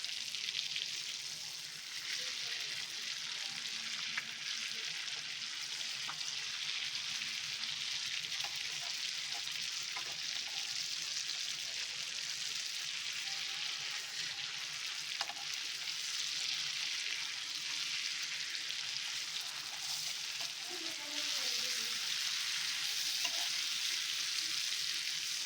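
Bangada mackerel fish frying on a tawa, a steady close hiss and crackle of oil that runs unbroken throughout, with a few faint clinks.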